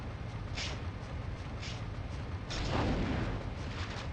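An explosion set off with the bomb attack in the PS1 Spider-Man video game: a dense, rumbling burst rising over steady game noise, with a few softer pops before it.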